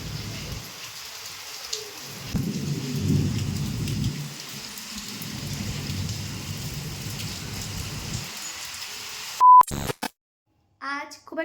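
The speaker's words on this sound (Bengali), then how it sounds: "এদিকে তো পুরো আকাশ কালো হয়ে ঝমঝম করে বৃষ্টি হচ্ছে আর ঝড়ও হচ্ছে।" Heavy rain pours steadily during a thunderstorm, with low rumbles of thunder rolling underneath, then an abrupt electronic beep and a cut to near silence at the end.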